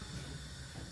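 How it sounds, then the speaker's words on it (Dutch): Pot of water on a home stove nearly at the boil, giving a steady, low hiss with faint bubbling rumble, heard alone and close for a second. "Deze kookt ook bijna."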